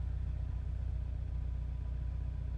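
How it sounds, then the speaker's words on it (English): AFE MACH Force XP Hi-Tuck axle-back exhaust on a Jeep JL idling while stationary, a steady, close, low pulsing burble with an even rhythmic throb and no revving. "here's just a quick sound clip of what the exhaust sounds like at idle."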